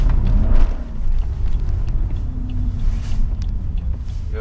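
A BMW 745i E65 driving through city streets, a steady low engine and road rumble heard from inside the car with faint passing noises, no talking.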